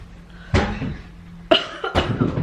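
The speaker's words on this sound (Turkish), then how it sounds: "Akşama Öksürmeler devam." A young child of about two and a half coughs in a home, in two separate fits: one hard cough burst, then a pause, then a second run of several rougher coughs close to the listener.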